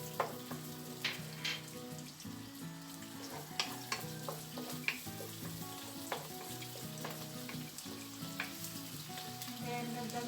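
Garlic sautéing in a pan next to browned pork for pork estofado, a steady close sizzle with scattered sharp crackles and spatula scrapes throughout, no talking.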